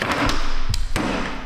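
Sharp whacks on the rear wheel bearing of a 2012 Toyota Tundra during a repair, a few close metallic knocks and thuds spaced unevenly over a second and a half.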